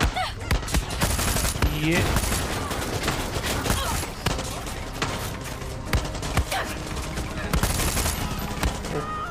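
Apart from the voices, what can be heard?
gunfire from video game Far Cry 6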